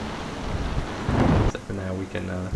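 Thunderstorm with rain in the video game Tempest: a steady wash of rain under a low rumbling thunder swell, then tonal game sounds in repeated short bursts over the rain.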